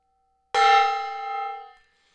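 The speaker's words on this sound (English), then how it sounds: "I'm going to hit that gong twice." A single strike on a gong in an indoor workshop room rings out with a bright metallic tone that sustains for just over a second before fading to silence, with no voices.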